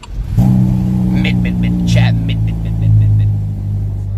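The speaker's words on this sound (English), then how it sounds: "now I want to hear the engine turn on" A Ferrari hybrid sports car engine turns over and settles into a loud, deep, steady idle with a slight rise in revs, close by, with people talking over it.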